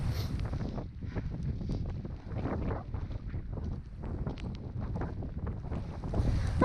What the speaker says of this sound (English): I don't mind the rain, but this wind is relentless.